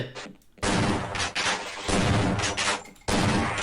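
Rapid bursts of gunfire from the video game Half-Life, loud and close, with several dense volleys separated by brief pauses.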